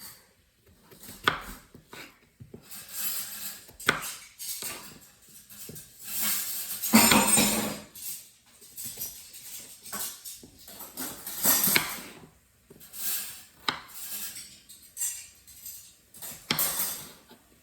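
A knife dices potatoes on a cutting board, with irregular clusters of close, sharp chopping knocks and scraping strokes separated by brief pauses.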